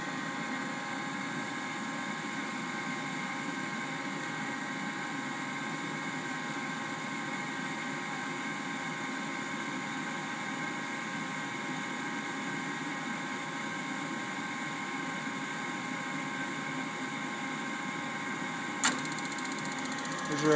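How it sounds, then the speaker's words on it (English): Furnace induced draft motor running steadily on a call for heat, a constant even hum with a faint tonal whine, followed by a brief sharp click near the end. "I have a call for heat, induced draft motor"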